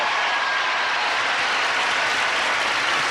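A television game-show studio audience greets the celebrity guests with steady, dense applause, loud and continuous throughout with no break.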